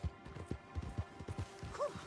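Horse hooves clip-clopping in Red Dead Redemption, a steady trotting rhythm of distinct thuds at moderate distance over quiet game ambience, with a brief snort near the end.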